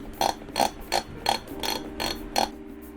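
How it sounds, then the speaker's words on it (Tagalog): Screws on a CPU cooler are turned into the backplate with a ratcheting tool, six crisp clicking bursts in a quick regular rhythm, close and clear with no talk. "when screwing the screws of your CPU cooler, screw it up until na hindi nyo na siya mai-screw"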